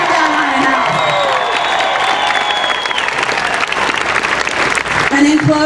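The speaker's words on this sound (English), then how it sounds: "Let's just all give that one more round of applause." A large rally crowd at a 2016 Texas anti-abortion event claps and cheers loudly and steadily, with whoops rising over the applause and a voice speaking briefly near the end.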